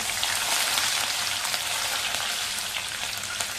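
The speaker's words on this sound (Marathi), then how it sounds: "लसूण आणि मिरची चांगली परतलेली आहे" Garlic, chili and curry leaves sizzle in hot oil in a pan, giving a dense, steady crackling hiss throughout, close and fairly loud, with no talk.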